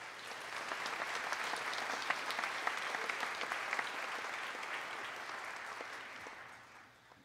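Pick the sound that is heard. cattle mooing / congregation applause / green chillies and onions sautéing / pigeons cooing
congregation applause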